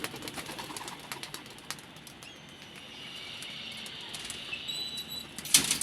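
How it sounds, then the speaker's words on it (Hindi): Two young pigeons take off from a rooftop loft where chicks are being flown, with soft wing flapping and faint cooing over a steady outdoor hiss, then a brief louder flutter near the end. "ये दो कबूतर बच्चे उड़ गए"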